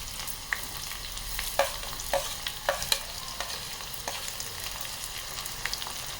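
Chillies and garlic frying in a pan with onions added for a Khandeshi sandge dry vegetable dish, a close, steady sizzle broken by repeated sharp stirring scrapes and clinks, with no voices.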